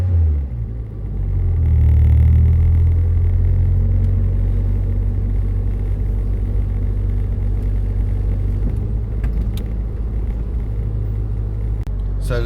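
Toyota car engine at Silverstone, a loud, rorty low rumble that swells early and then holds a steady deep drone close by, with no talk over it.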